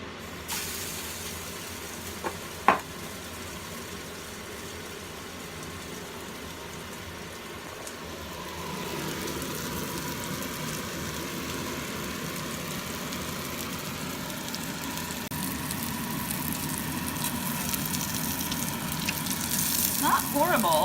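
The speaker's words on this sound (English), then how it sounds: "My pan is massively on fire because I put way too much oil in there" Zucchini sizzles and hisses in a pan holding far too much oil, a steady close frying noise that grows louder and busier over the last half, with a couple of small knocks early on.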